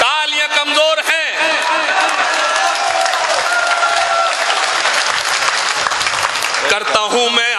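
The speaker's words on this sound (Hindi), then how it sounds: "तालियां कमजोर हैं।" Strong, sustained applause and some cheering from the audience at a mushaira poetry gathering during an Urs festival, filling the middle of the clip, with a reciting voice heard at the start and end.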